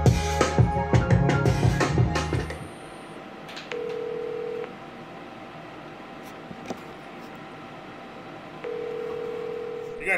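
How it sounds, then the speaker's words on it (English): An outgoing call on an iPhone rings: music cuts off, then two long, steady ringback tones sound several seconds apart over a quiet, hissy background. "Let me call my man Lyrics real quick"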